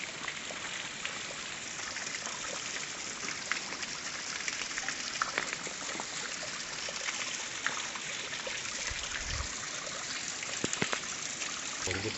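A waterfall rushes and splashes continuously nearby, a constant broad hiss of falling water with occasional louder splashes.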